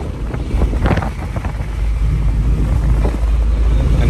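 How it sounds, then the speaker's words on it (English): Loud, steady wind buffeting rushes through the open windows of a car driving around an island past an air traffic control tower, a continuous low roar with gusty swells throughout. "I know it's a little bit windy, sorry, but it's too hot to have the windows up."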